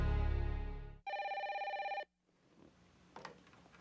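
An old-style telephone bell rings loudly in two bursts, a long first ring then a rapid trilling second, before cutting off into quiet room sound with a faint rustle.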